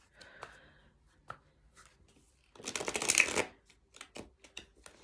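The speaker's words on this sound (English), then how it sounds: "I'm going to shuffle 3 more times and then split the deck and draw from the top" A deck of cards is shuffled by hand, with scattered soft taps and snaps leading into a dense, riffling burst of card noise in the middle before quieter handling sounds resume; nearby and clear, without talk.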